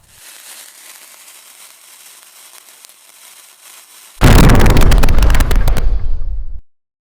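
A thrown bomb explodes after a few seconds of quiet room tone, with a sudden loud, crackling blast that lasts about two seconds before cutting off.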